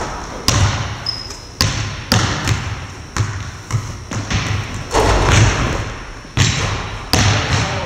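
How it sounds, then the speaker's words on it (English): A basketball bounces and thuds on a hard court in a school gym during three-point shooting, with a series of loud, irregular impacts set against an echoing, noisy room. "Here are some examples of three-point shots from the school basketball team."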